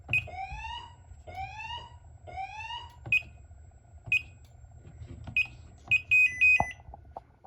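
A home security system panel in fire panic mode gives several loud, repeated rising electronic whoops. Shorter beeps follow, then a steady high tone and a few clicks before it falls silent.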